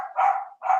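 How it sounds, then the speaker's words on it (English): Dogs bark twice in quick succession in a room during an online call, two short, fairly close barks with no voices over them. "I can't control those dogs"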